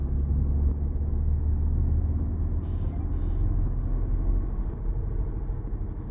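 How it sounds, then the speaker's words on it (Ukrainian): Low, steady droning rumble from inside a moving car with a worn wheel bearing or tyres, a constant hum from the wheels with faint road noise and no talking. "Ну, похоже на підшипник або кончена резина."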